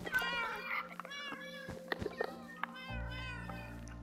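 Cats meowing in the game Minecraft, several clear, repeated meows in quick succession over a quiet background with a low hum entering near the end, no speech.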